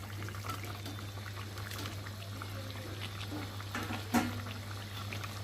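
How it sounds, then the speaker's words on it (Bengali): Fried pabda fish and eggplant go into a boiling curry, with a low bubbling simmer and faint liquid pouring and splashing sounds over a steady background hum, close and quiet. "আর এখন আমি ভেজে রাখা মাছ আর বেগুনটাকে একসাথে দিয়ে ঝোলের মধ্যে ফুটিয়ে নেব।"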